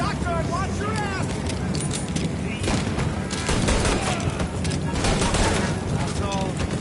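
Shotgun and other gunfire in the 1930s gangster game Mafia, a dense fusillade of sharp blasts cutting through shouted character dialogue and background game noise.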